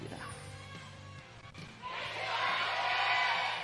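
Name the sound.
fans cheering loudly in an esports arena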